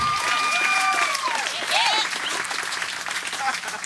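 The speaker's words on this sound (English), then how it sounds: "my notes here say to pause for a huge round of applause" Guests at a wedding ceremony break into hearty applause, a dense wash of clapping with cheers and whoops mixed in that gradually eases off.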